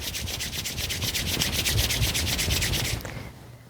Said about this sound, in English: you're going to rub your hands together for maybe 10-15 seconds